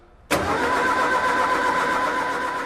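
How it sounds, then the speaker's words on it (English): A fuel-injected camper van engine with its spark plugs removed abruptly starts turning over with a steady, sustained whirring churn that runs continuously without catching or revving. "What I'm going to do in a minute is crank the engine over with no spark plugs"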